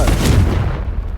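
A Confringo spell explosion from the video game Hogwarts Legacy gives a single loud, booming burst with a heavy low-end rumble that tails off over about a second.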